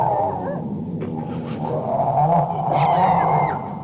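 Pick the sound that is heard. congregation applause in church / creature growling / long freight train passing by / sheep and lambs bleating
creature growling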